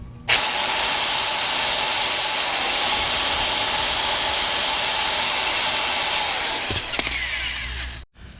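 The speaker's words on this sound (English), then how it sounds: "we're going to clean this area off right now with the wire wheel" A wire wheel grinds rust off brake parts during a budget eBay brake install, a steady, loud, continuous whir that runs unbroken for several seconds before spinning down and cutting off near the end.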